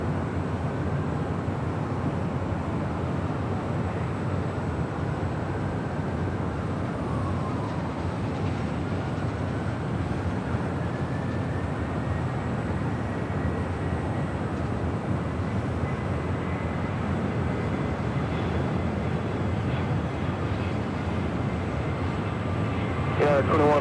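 An airliner rolls for takeoff on runway 25 right at Los Angeles International Airport, a steady broad engine roar that swells gradually across the whole stretch, with faint radio chatter beneath.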